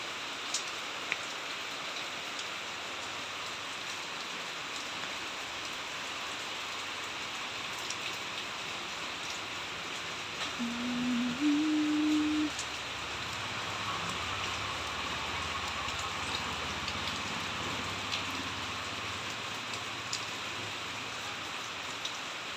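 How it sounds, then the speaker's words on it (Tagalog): Heavy rain falling steadily outdoors ahead of an approaching typhoon, a dense continuous hiss at even loudness throughout, with a brief low tonal sound near the middle. "Yan, malakas ng ulan."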